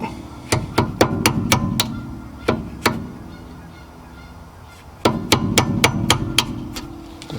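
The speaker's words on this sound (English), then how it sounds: "hit these two pins out that hold the spring retainer in right here" Sharp metallic hammer strikes driving a drill bit to knock out spring retainer pins on rear brakes in quick bursts, several taps in a row, a pause with two more hits, then another rapid series of blows.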